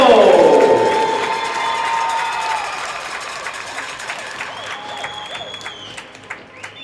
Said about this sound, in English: please give a big round of applause for our forward from Troy, Michigan, Mike Manzo.